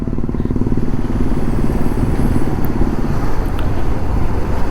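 A motorcycle rides through traffic on a Konkan road, its engine loud and close with a steady rumble and rattling clatter, and other vehicles pass in the background.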